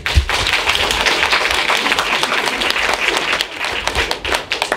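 Dense, sustained applause from a large audience at a children's theatre festival, many hands clapping steadily throughout.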